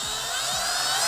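A small power drill with a 1/4 inch bit whines steadily and loud at close range while boring out the end caps of a model kit, with no talk over it.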